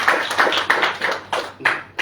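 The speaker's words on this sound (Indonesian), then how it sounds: "Beri tepuk tangan buat itu, tidak masalah." Sharp, evenly spaced claps ring out about three times a second, a church congregation handclapping close by with no talking.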